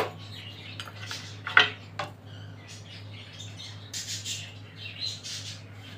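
Mutton trotters for paya dropped into a metal cooking pot, giving a few sharp clanks and clattering knocks, loudest around the middle, over a steady low kitchen hum with no talking.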